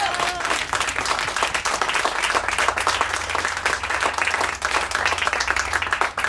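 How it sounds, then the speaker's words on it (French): A theatre audience applauds the stage director and his assistant after a performance: dense, steady clapping fills the whole stretch at an even, sustained level, with no talk over it. "On les applaudit."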